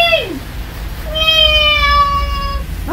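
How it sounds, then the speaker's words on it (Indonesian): A cat meows near the microphone, first a short falling mew, then a longer drawn-out cry, over a steady low background hum with no talk. "Wow, ada kucing."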